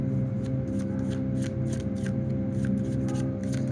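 Tarot cards being shuffled and drawn, a continuous papery riffle with light flicks throughout, close over a steady low hum, no talking.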